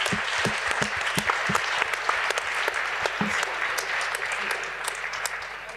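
A conference audience applauds after a panel discussion on public spaces in Paris, sustained clapping from many hands, loud and close, continuing for several seconds and tapering slightly at the end.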